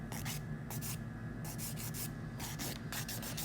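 A nail file shapes the free edge of a poly-acrylgel fingernail in quick rhythmic bursts of close, dry scraping, strokes grouped in short runs separated by brief pauses, with no talking.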